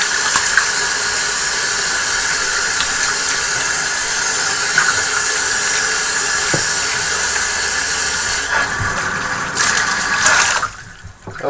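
Water from cleaning an Eheim 2213 aquarium canister filter draining down a sink, a steady rushing hiss that continues for several seconds and then trails off near the end.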